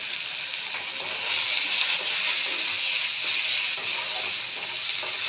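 Meat frying in a little oil with turmeric, coriander and cumin powder, a loud, steady close-up sizzle and hiss that runs unbroken throughout with a couple of small stirring clicks and no talk.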